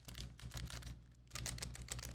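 Fingers hammer rapidly on a thin Logitech G Lightspeed wireless keyboard with red linear switches. The key presses form a dense, fairly quiet clatter that runs continuously, with no one speaking.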